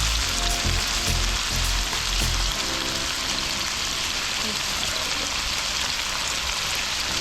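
A steak frying hard in a pan with garlic sauce and rosemary gives a loud, steady sizzle, with a heavier crackling burst early on that then settles into an even hiss.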